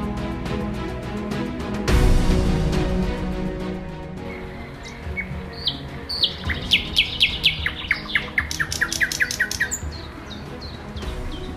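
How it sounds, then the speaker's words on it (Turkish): Birds chirp and squawk in a town park over a steady outdoor background, with a burst of rapid, repeated high calls building in the second half. "kuşların cıvıltıları arasında dinlenip etrafın havasını teneffüs edebileceğiniz harika bir ortam"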